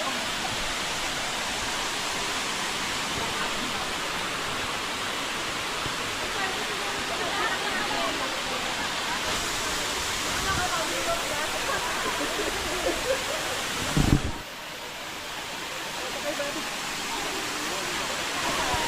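Batlag Falls, a waterfall about two hours from Manila, pours with a steady, dense rushing roar that stays unbroken throughout, with a brief knock near the end and people talking faintly underneath.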